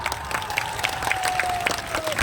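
Crowd at a political rally claps, dense applause with a few sharper claps standing out and a faint voice or tone running underneath.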